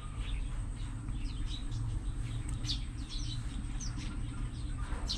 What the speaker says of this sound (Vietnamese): Trong tổ có 2 con chim non.